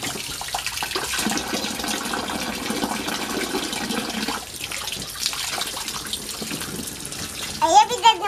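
Water runs from a tap to fill a bath, a steady close rushing stream that continues the whole time, easing slightly near the end, with brief sounds of people nearby.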